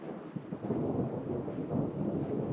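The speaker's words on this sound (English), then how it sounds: "There's some thunder." Thunder rumbling over a mountain lake during a hike in the Mineral King area, a low, steady roll filling the whole moment without any voices.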